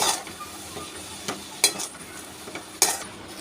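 A utensil stirs ketchup, salt, black pepper and spice mix into street-style egg noodles in a pan, with a steady faint sizzle and a few sharp scrapes and clinks of metal against the pan.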